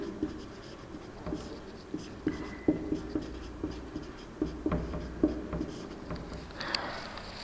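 A pen scratches over paper in short, irregular strokes as notes are handwritten, faint and close with small taps between the strokes.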